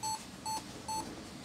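A Lenovo T430 laptop with no display sounds an error code of three short, evenly spaced electronic beeps, clear and close, with no talk.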